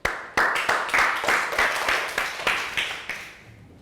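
Classroom applause from a Year 3 maths class, a short run of sharp, separate claps in a steady rhythm, fairly close and loud, thinning out and fading at the end.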